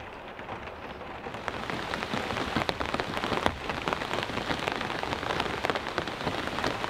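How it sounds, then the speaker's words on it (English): Steady rain drums on a cabin roof overhead, a dense patter with scattered louder drops, continuous and fairly close, with no voices. "Just being inside of the cabin, listening to the rain"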